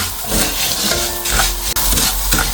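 Dry rice is stirred in hot oil in a pot for beef pilaf, a loud close scraping and gritty hiss that keeps going with rhythmic sweeps of the spoon.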